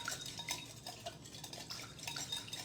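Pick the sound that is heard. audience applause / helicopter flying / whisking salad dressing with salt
whisking salad dressing with salt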